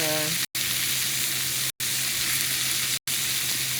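Beef stir-frying in a pan with a little oyster sauce added gives a loud, steady sizzle that runs without a break, cut off only by three brief silent gaps.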